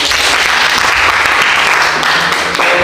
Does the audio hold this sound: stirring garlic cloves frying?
no